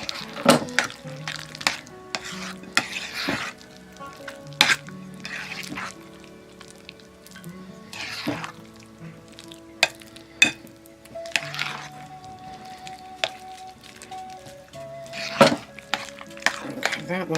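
Pizza rustica filling of salty meats, provolone and mozzarella stirred in a bowl, giving irregular close clinks and scrapes of a utensil against the dish.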